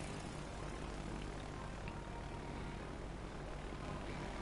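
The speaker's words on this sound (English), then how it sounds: "We do have 4 torpedo bombers, so we'll probably launch those." Torpedo bombers take off from an aircraft carrier in a naval video game, giving a steady, loud propeller-engine drone with no breaks.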